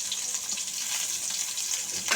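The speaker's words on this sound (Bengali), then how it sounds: "1 টেবিল চামচের মতন পেঁয়াজ কুচি দিয়ে দিলাম।" Chopped onion and garlic fry in hot oil in a pan, giving a close, even sizzle that stays steady throughout with no voices.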